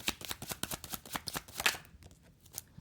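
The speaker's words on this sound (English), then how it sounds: "As I'm shuffling and getting cards here" Tarot cards being shuffled by hand, a quick run of crisp riffling flicks that are close and fairly quiet, the snapping bursts thinning out toward the end.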